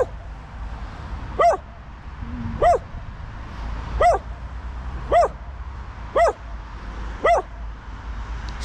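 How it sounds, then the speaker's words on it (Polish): A dog barks six times in a steady, evenly spaced rhythm, fairly close, over a low rumble of outdoor background noise in a Polish forest setting at night. "Piesku, nie szczekaj piesełku"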